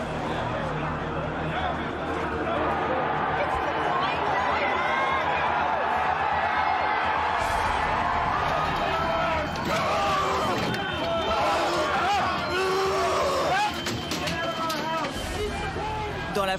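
A dense, roaring crowd during the storming of the US Capitol on January 6, with shouting voices and jostling noise blending into a continuous loud din for the whole stretch.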